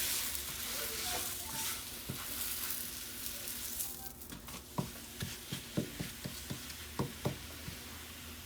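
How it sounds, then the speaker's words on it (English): A low-carb tortilla toasts in a pan for a keto buffalo chicken quesadilla, with a soft continuous sizzle and a series of light taps and ticks toward the end. "I'm just going to add my tortilla, and I'm going to toast it on both sides."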